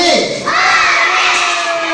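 A group of children lets out an enthusiastic group cheer of "hooray" on a fire station visit, a loud shout that dips briefly and then swells again, with a few voices rising above the rest.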